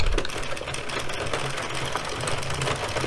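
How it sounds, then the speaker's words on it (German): An addi Express Kingsize knitting machine cranked round by hand while knitting a striped hat, giving a steady close mechanical whirring and clattering with no voices. "Und die nächsten drei Runden kurbeln."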